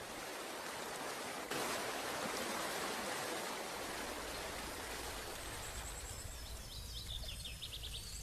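Broad, steady rushing water of a waterfall near Sefrou in Morocco, a faint, even wash of noise with a few bird chirps breaking through near the end.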